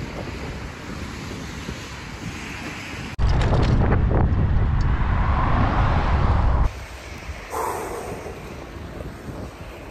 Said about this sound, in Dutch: Door regen en wind.